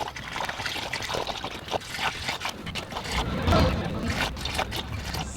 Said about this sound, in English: we can continue to fill in our radiator